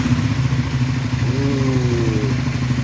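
A Triumph Scrambler 400X motorcycle engine runs steadily just after start-up, a close, loud, even idle with a constant throbbing drone and a brief faint whine partway through.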